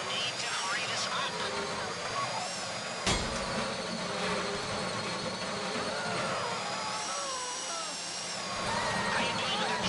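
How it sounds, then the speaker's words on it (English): A power drill bores steadily into a metal box in GTA V, a continuous whining grind running the full length alongside game noise and voices, with a sharp jolt partway through. "How you doing with that drill?"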